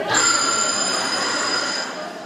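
A doorbell rings in a Bulgarian radio comedy scene, a continuous bright electric ringing that holds steady for about two seconds, loud and close, without overlapping talk.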